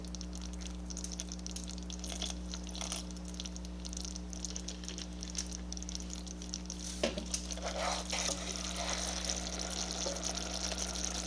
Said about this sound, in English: That's what happens when you pour that vanilla in on that liquid.